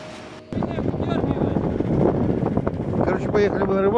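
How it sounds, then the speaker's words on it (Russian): Fierce wind gusting across a frozen lake during a fishing trip, a loud continuous roar buffeting the microphone, with a person speaking over it. "Ветрюга прямо сумасшедший."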